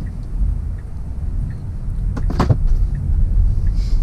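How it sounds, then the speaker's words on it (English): A phone drops inside a moving Tesla Model Y, making a single sharp knock partway through, heard over a steady low road and cabin rumble. "Someone dropped their phone."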